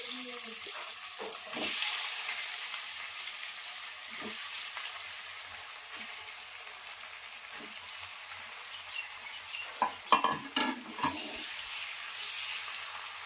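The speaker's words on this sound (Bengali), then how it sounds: "তারপর পনিরগুলো এই তেলে দিয়ে দেব।" Paneer frying in oil seasoned with Kashmiri chilli powder and turmeric, a soft steady sizzle with occasional clinks and scrapes of stirring, close and fairly quiet.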